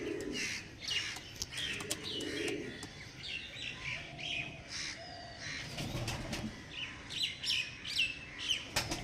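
Pigeons of a Punjabi breed for sale give soft coos and chirps from several birds, gently overlapping at moderate distance with no talking.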